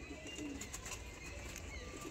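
Pigeons cooing softly at a distance, low throaty coos drifting over a quiet, steady background hum with a few faint chirps.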